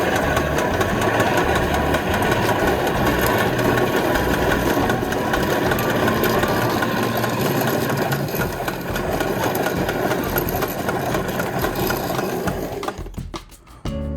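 A Gardena retractable 100 ft hose reel rewinds its hose with a steady, loud mechanical whirring and rattling that runs without a break and stops abruptly near the end.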